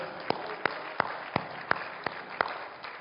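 A church congregation claps in a steady, evenly spaced rhythm, the sharp claps repeating about three times a second at moderate distance, with no talking.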